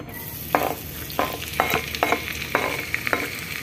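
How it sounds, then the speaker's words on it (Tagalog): Garlic sautés in a pan, a steady close sizzle broken by several sharp scraping stirs in an uneven rhythm, with no talking. "igisa na po natin ang ating bawang"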